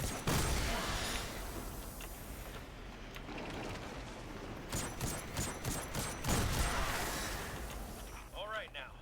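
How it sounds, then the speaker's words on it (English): Bursts of gunfire shooting at crystals in Destiny 2 crackle in uneven clusters through the middle and end of the stretch, mixed with game effects under steady talking. "Right, then we need to shatter the crystals, so let's gunfire at them."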